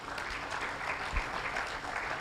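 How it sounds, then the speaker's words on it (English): An audience at a budget-office parliamentary conference gives a presenter a steady round of hand clapping, close and continuous, with faint voices underneath. "Let us clap for the presenter, Mr. Benson,"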